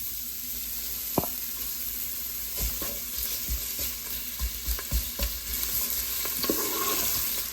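Finely sliced onions fry in olive oil in a pan, a steady close sizzle broken by repeated knocks and scrapes of stirring, with no voices.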